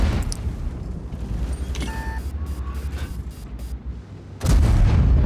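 Tank cannon firing in the World of Tanks game during an E50M match: scattered booms over a rumbling engine bed, with a heavy blast arriving near the end.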